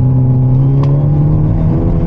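A manual Hyundai Elantra N held at steady high revs while brake boosting at a launch, a loud, close, constant engine drone that stays level throughout.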